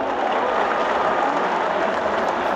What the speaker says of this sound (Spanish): No sin antes un fuerte aplauso